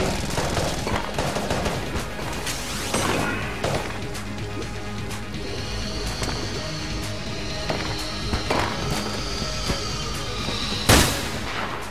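Gore gun firing in the roguelike shooter Enter the Gungeon, a dense busy wash of rapid shots, impacts and crunchy game effects throughout, with a sharp loud burst near the end.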